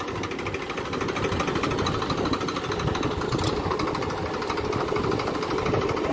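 Mahindra tractor engine labouring under heavy load, a dense, continuous rattling diesel chug with rapid knocking pulses, loud and close, running unbroken without speech.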